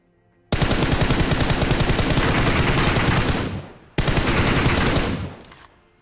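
Video game gunfire arrives in two loud, sustained bursts of rapid automatic fire, close and harsh, with a brief gap between them and no speech.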